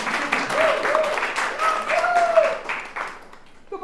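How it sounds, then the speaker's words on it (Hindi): Audience at an improv comedy show clapping, a few seconds of scattered applause from a small crowd under a voice that carries through. "ताली हो जाए बख्शी खुराना जी"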